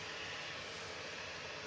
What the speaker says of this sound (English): Virgin taxiing out